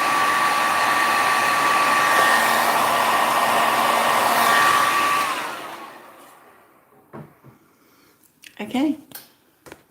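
A hair dryer blows steadily and loud for about five seconds while drying an alcohol ink geode painting, then cuts off, followed by faint handling sounds and a brief voice.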